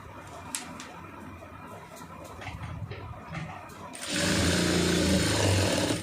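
A sewing machine stitches a blouse lining, breaking into a loud, steady mechanical whir partway through after a quieter stretch of faint handling noises.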